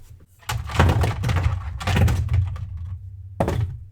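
Star Wars action figures are knocked off a toy skiff, giving a few loud plastic thunks and clatters in quick bursts, then a pause and one final knock.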